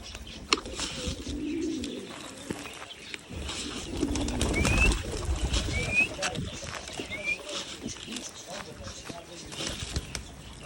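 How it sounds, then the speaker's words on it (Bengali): A pet pigeon gives a few low, soft coos close by, with brief chirps mixed in and faint voices in the background. "আমার 300 টাকার কবুতরটা দেখতে দিবেন এই যে পায়রাটা"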